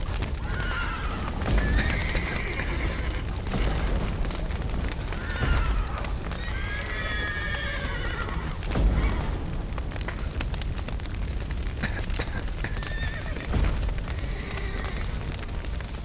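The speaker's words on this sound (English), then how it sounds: "The horses!" Horses in The Witcher 3 neigh and whinny repeatedly amid clip-clopping hooves, with several loud, near calls spread across the stretch over a steady roar of fire and low booms from a collapsing building.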